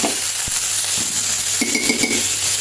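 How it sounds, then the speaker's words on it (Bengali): Garlic and chopped onion frying in hot oil in a pan, a steady close sizzle with a few light knocks of a utensil against the pan, and no talking. "তেলের উপর রসুন আর পেঁয়াজ কুচি দিয়ে দিলাম"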